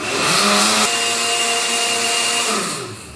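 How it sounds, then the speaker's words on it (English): A blender whirs loudly at high speed blending shredded coconut for coconut milk, a steady motor whine with a shift in pitch partway, then winding down at the end. "3 minutes on the blender, that is it."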